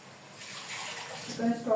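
Water is poured into a soup pot with tarragon and chicken stock, a soft splashing trickle that swells toward the end, heard close and moderately quiet.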